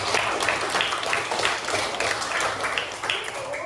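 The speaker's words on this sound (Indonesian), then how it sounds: "Tepuk tangan buat kita." A classroom of students applauds, dense rapid clapping that stays loud and steady for a few seconds with no pauses.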